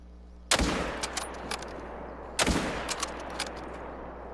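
Two sharp, loud rifle shots at a whitetail deer in theHunter: Call of the Wild, fired through an Odin scope roughly two seconds apart, each a hard crack followed by a rolling echo that fades into quiet.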